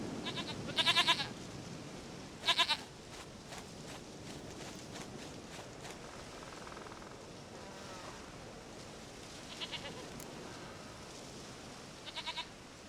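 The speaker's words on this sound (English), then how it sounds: "sweetest goat." Goat bleats in The Witcher 3: Wild Hunt in Velen, heard as several short, separate calls spread over a steady ambient wash that resembles surf or wind. The first two bleats are the strongest, and fainter ones come later.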